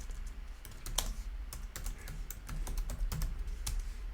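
A cd command being typed on a computer keyboard: a quick burst of close key clicks in uneven rhythm, fairly quiet and with no voice.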